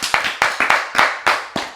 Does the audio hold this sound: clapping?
yes